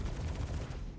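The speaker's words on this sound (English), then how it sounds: "That's a turret." Turret fire in the Star Citizen video game, a dense, continuous barrage of rapid gunfire filling the whole second at steady loudness, with no voices.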